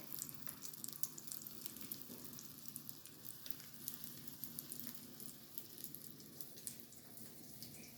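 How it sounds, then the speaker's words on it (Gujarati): Potato patties shallow frying in a little oil on a flat griddle, a faint continuous crackling sizzle with scattered small pops, quiet and steady, no voices. "એની અંદર આપણે બધી પેટીસ મૂકી દઈશું સેલો ફ્રાય કરવા માટે"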